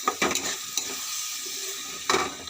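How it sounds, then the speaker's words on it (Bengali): A garlic spice mixture is stir-fried in a pan with scraping spatula strokes over a sizzling hiss, with sharper bursts near the start and again toward the end, close and fairly loud, with no voices. "মশলাটা এবার ভালো করে কষাবো।"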